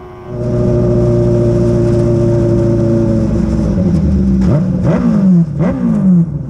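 A formula race car engine runs at near full throttle in sixth gear, a steady loud high-revving drone that then drops through sharp, rising gear-change wails.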